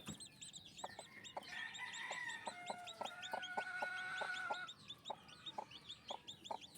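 A brooding hen clucks steadily among newly hatched chicks peeping high and fast, a busy close-up farmyard chorus with the peeping thinning out toward the end.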